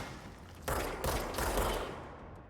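Heavy weapon fire in the video game Control, a sudden loud blast followed by a second roaring burst that fades away, with no talking.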